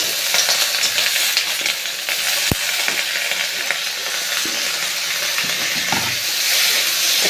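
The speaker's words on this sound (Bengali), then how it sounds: "এটা দিয়ে একটু ভেজে নিতে হবে, সামান্য একটু ভাজলেই হবে" Raw capsicum and tomato fry in a pan with a steady, loud sizzle and hiss, broken by a few sharp stirring clicks and scrapes and no voices.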